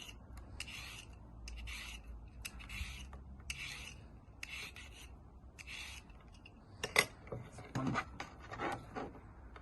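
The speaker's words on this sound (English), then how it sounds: "So start peeling the carrots." A peeler scrapes carrots in quick, regular strokes, each a short rasping swipe repeated about twice a second. Near the end come a few louder knocks and handling noises.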